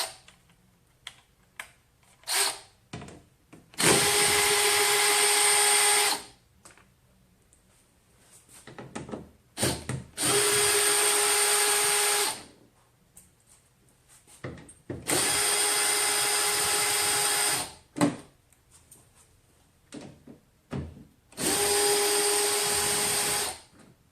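A power tool, likely an impact driver, removes 10mm bolts on a Hyundai Veloster N bumper under the open hood. It runs in four loud, steady bursts of about two seconds each, with clicks and handling noises in the pauses.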